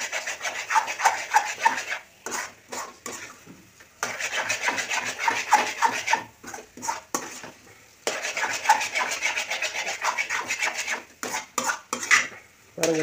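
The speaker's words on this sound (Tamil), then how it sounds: "இந்த கரண்டியை வச்சு கிண்டி கொடுத்துட்டே இருக்கணும்" A ladle scrapes and stirs egg podimas in a pan in close, rhythmic bursts of rubbing strokes separated by brief pauses.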